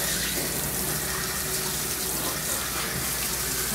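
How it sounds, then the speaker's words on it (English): Steady spray of running water rinsing a dog in a grooming salon, a loud continuous hiss holding at an even level from start to finish, close by and without talk. "So we're gonna rinse all that off now."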